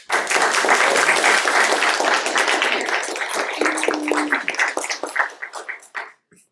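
An audience claps to welcome a speaker to a lecture. The applause is steady and full for several seconds, then thins into scattered claps and fades out.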